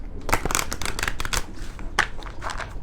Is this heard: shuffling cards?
yes